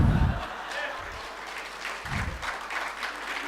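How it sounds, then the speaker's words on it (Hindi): An audience claps at a motivational training session, with dense applause that swells and fades in waves over several seconds and no voice over it. "ताली बजानी है तो अच्छे से बजा लो, वरना मत बजाओ"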